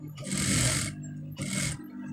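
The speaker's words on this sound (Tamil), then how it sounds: "கரெக்டாக பார்த்து தைங்க." Sewing machine stitching a netted blouse, running in two loud bursts of steady motor whir with a short pause between them, close and alone.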